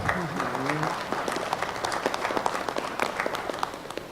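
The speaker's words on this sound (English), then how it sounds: "that deserves a clap" Conference audience applauding, a dense burst of clapping with distinct sharp claps standing out, while a voice speaks briefly over the start.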